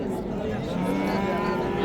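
Cattle and calves at a crowded livestock market in Chiroqchi low in a drawn-out moo over a dense murmur of the busy market, with people talking nearby.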